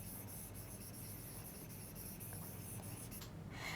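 A pen writes a word into a blank on a grammar exercise sheet, soft continuous scratching close by, faint and without speech.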